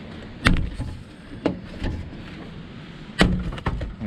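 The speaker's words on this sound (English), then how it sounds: "the rest of the door card is held on by some little poppers. It's just a case of pulling them off" Plastic door card poppers pull free from an MG Midget door, giving a few sharp close clicks and snaps spaced across a few seconds, with two louder pops near the start and a cluster later, over light handling noise.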